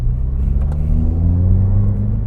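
A 2016 Subaru WRX engine hums with a deep, steady rumble as it accelerates, heard from inside the cabin, pitch rising gently under constant throttle with no talking.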